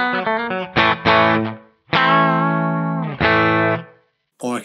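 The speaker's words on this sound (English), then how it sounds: "I could go to a telly style pickup." Electric guitar through the Blue Cat Axiom plugin set to a Telecaster-style pickup simulation: a bright run of picked notes and ringing chords in short phrases, fairly loud and close, ending abruptly.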